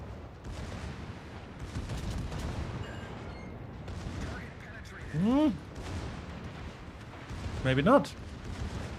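Naval guns fire in World of Warships, with deep rumbling booms rolling through the mix and two sharper blasts standing out late, while players talk over the battle.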